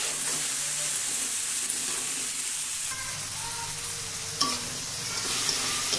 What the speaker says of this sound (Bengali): মোটামুটি ভাজা হয়ে গেছে।